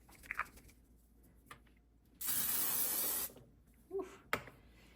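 A L'Oreal setting spray hisses onto a face in one loud sustained burst of about a second, with quiet handling clicks and rustles around it.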